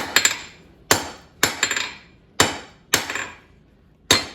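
Hammer blows forging a square taper on a steel bar for a dinner triangle, six sharp metallic strikes, some with quick rebounds, ringing out at an uneven pace, close and loud.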